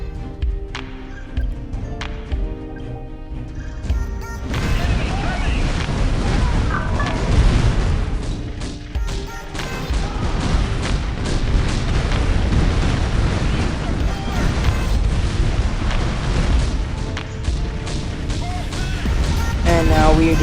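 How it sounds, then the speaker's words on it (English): Heavy bombing and Space Strike blasts pound a red player's base in a real-time strategy game, loud dense booms and rumbling explosions running almost continuously, with a quieter musical passage at the very start. "And now we are just finishing off this red player's base, which I bomb, and then I Space Strike this basically last building"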